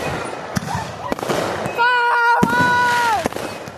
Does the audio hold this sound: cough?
no